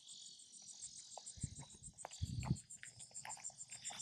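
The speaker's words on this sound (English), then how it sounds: "That is a serious cicada right there." Cicada on an island shrills in a steady, pulsing buzz that runs through the whole stretch, fairly close, with low thumps and rustling underneath.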